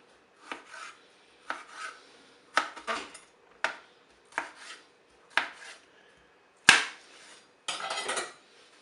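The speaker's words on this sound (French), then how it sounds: "Je vais couper mes tranches en bâtonnets." Knife chopping cucumber slices into sticks on a cutting board: about nine sharp, distinct chops at a steady, unhurried pace, close and clear with short pauses between them. There is no talking.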